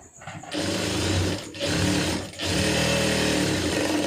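A sewing machine stitches blouse lining in three close, loud runs of fast mechanical whirring, separated by two brief pauses.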